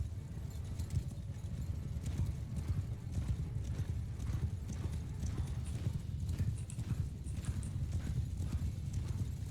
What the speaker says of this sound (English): someone's being chased by 60 horses